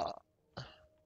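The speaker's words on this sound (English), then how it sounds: "I burp like in every episode" Two burps from a man, a long throaty one followed by a shorter one after a brief pause, close and fairly loud over a faint steady hum.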